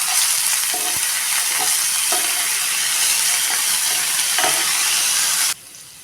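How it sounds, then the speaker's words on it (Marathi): Urad dal and chana dal dry-roasting in a pan, a steady broadband frying hiss with light scraping stirs at intervals, close and even, cutting off abruptly near the end. "एक चमचा उडी डाळ एक चमचा हरवी डाळ ती आता चांगली परतून घेऊया"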